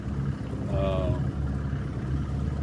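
A fishing boat motor on Lake Keowee drones steadily at low pitch throughout, with a brief higher whine over it partway through.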